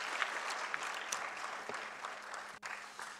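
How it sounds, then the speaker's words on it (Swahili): Steady audience clapping fills a hall at a Tanzanian logistics and transport association launch, a dense even patter with a few sharper individual claps standing out. "Makofi zaidi ndugu zangu, makofi zaidi."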